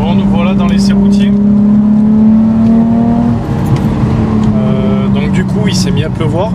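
A Nissan 350Z sports car on a road test in the rain, its engine droning loudly from inside the cabin with a steady tone that rises and dips with the revs, while a voice talks over it.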